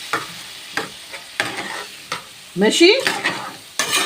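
Tomatoes and tomato paste fry in a pan with garlic, loud sizzling broken by repeated scraping stirs at a steady rhythm, and one brief spoken word partway through.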